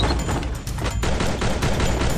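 Dense, continuous bursts of gunfire in a video game, with rapid overlapping shots and booms filling the whole span at steady loudness, no talking over it.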